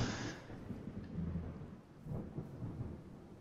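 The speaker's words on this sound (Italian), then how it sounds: "ho sentito un tuono" Low rumble of thunder in Minecraft rolls over a steady hiss of rain, swelling in a couple of deep waves at moderate distance, with no talking.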